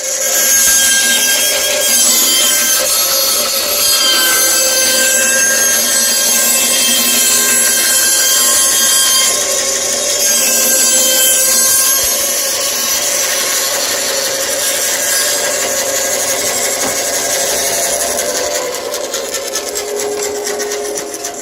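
A circle cutter spun by a drill press grinds continuously through a wooden board, a loud, steady, raspy scraping cut held for about twenty seconds without pause.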